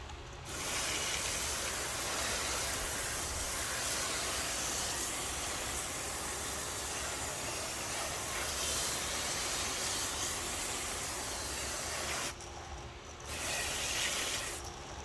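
Garden hose spraying water onto a car wheel coated in a degreaser-type wheel cleaner, a steady close broadband hiss of spray running almost continuously with one brief pause near the end.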